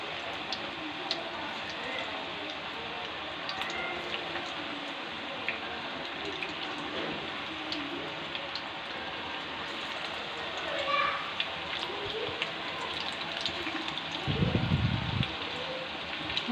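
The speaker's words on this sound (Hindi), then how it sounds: "आप देख सकते हैं हमारे पकौड़े फ्राई होना शुरू हो गए हैं" Pakoras fry in hot oil on a stove, giving a steady, dense sizzling hiss with faint crackles throughout. A low thump comes near the end.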